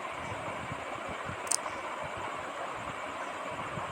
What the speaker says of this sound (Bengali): হাই হিটে পেঁয়াজটাকে একদম ভালো করে ভেজে নেব এবার আমি।